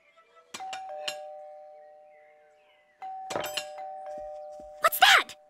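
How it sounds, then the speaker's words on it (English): Cartoon doorbell ringing, a clear sustained two-tone chime that sounds once, fades, then rings again, alongside a few light knocks and short voiced exclamations. "What's that? Just a doorbell."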